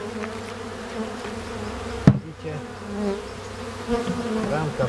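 Honeybees working a light-colored frame from a hive hum in a steady, close buzz, with a sharp knock partway through and the drone continuing afterward.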